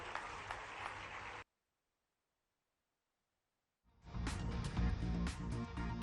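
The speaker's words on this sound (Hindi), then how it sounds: "उनके लिए भी तालियां बजाकर स्वागत करें" A crowd at a tree-planting campaign event in Indore applauds loudly, the clapping cuts to silence for a couple of seconds, then the applause resumes just as strongly.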